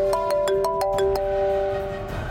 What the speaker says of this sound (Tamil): ஹாஸ்பிட்டல்ல இருந்து கர்ணா தான் ஃபோன் பண்றா.